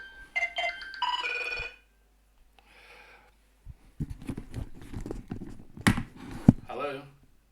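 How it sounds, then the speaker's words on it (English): A mobile phone rings with a bright trilling tone, then stops. Rustling and handling noises follow, with a person speaking afterward. "Oh, my phone."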